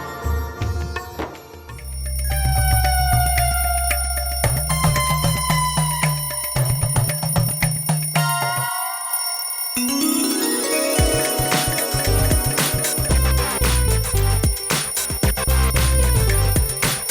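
A phone ringtone plays loudly and continuously, a bright repeating electronic melody that cuts out for a moment and then resumes.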